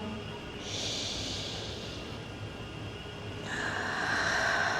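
Slow breathing during a yoga stretch, a long airy inhale followed by a louder drawn-out exhale, close to the microphone with no talking.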